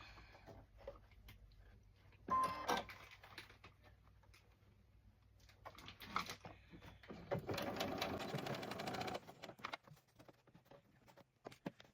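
A sewing machine stitches an 18 inch doll dress in short bursts of rapid mechanical whirring and clicking, including one longer run near the end, with quiet pauses between.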